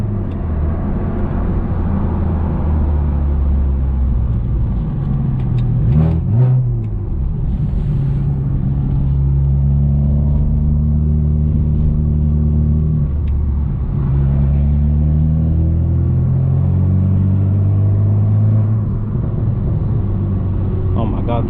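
A BMW 335xi with a six-speed manual and a tuned turbo engine drones steadily from inside the cabin while driving, its low rumble rising and falling with throttle over roughly twenty seconds of continuous, loud engine noise.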